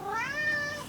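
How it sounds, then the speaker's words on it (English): A pet cat gives a single close meow, short and clear and rising then falling, over a low room hum. "Oh, apologies for the cat."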